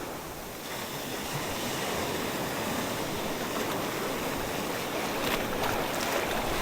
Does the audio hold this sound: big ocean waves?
yes